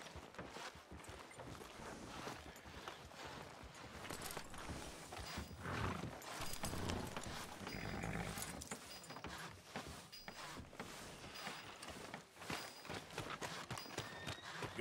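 Hooves clip-clop steadily on a hard surface in the video game Red Dead Redemption 2, with a horse whinnying partway through and a constant ambient bed underneath.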